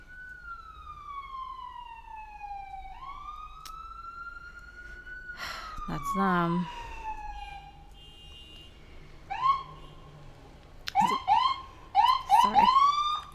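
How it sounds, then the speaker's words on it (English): An ambulance's wailing siren sweeps up and down, then shifts to rapid yelping bursts, loud and close before fading; a brief word is spoken. "That was just the ambulance coming in."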